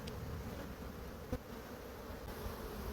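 Honeybees in an open hive hum during a winter inspection with a frame being removed, a steady, close, low buzzing swarm drone that fills the whole moment with no talking.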